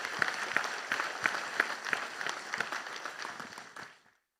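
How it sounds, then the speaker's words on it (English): Applause from a conference audience at a dam safety technical session, a few distinct claps standing out over a modest wash of hands that fades out after about four seconds. "I think it deserves a big applause for all of them."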